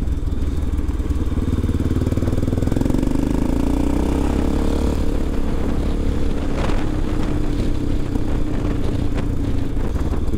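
A motorcycle rides along a road toward the Baltic Sea, its engine droning steadily and loudly with constant wind rush, and no talking over it.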